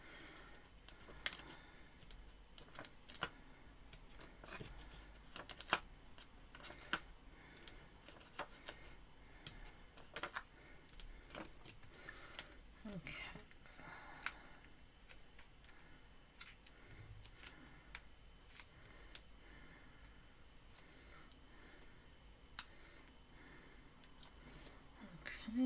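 Dimensional adhesive foam pads have their backings peeled off one after another, producing quiet, sharp paper ticks and crinkly snaps scattered irregularly over a soft, quiet room background.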